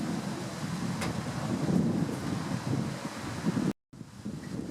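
Gusty wind buffets the microphone at an outdoor backyard grill cooking shrimp, a steady loud rumble with rustling that cuts out briefly near the end before resuming.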